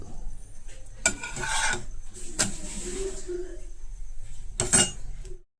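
A chapati is flipped and roasted on a dry pan over a high flame, giving three short scraping rubs of the flatbread against the pan over a low steady background, with a faint voice in places.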